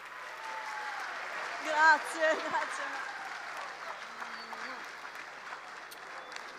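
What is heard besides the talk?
audience applause for a speaker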